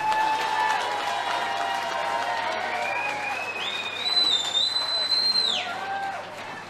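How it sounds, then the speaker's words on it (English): A large audience applauds the women's finalist at the Welsh Open 2024: loud, sustained clapping throughout, with a few high whistles rising over it in the second half. "we first ask for another massive round of applause for your Welsh Open women's finalist"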